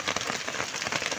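Rain falling over a chili pepper field at harvest time in July, a steady dense hiss of drops with small irregular patters and no voices, filling the whole short stretch evenly.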